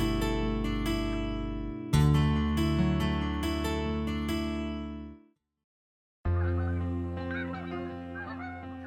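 Geese descending to land in Kansas, honking repeatedly in a steady stream of harmonic calls over a sustained tonal bed that cuts out briefly before resuming.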